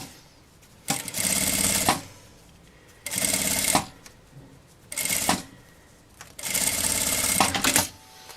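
Four separate bursts of a sewing machine stitching a zipper edge onto fabric for a notebook cover, each a rapid mechanical rattle of a second or so, close and clear, with quiet pauses between.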